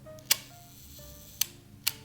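A Hasselblad Flexbody medium-format camera shutter fires three sharp, close mechanical clicks, the first separated from the last two by a pause, against a quiet room background.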